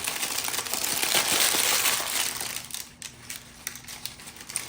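Broken pieces of dried, dehydrated sourdough starter clatter and crackle into a small bowl, a crisp close rattle that tapers into scattered ticks.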